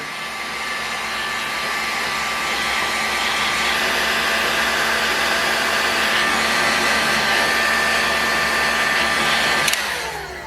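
A hot-air blower heats a Thunder Tiger F54S model engine to loosen its bearing. It gives a loud, steady whirring blast with a tonal whine, holding for about ten seconds before it cuts off.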